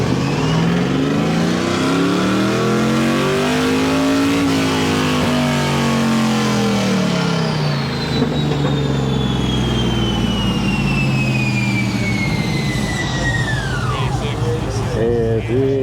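A car on a dyno at a hot rod car show revs hard and continuously, engine pitch rising and falling then climbing high before dropping off, loud and steady with crowd noise around it.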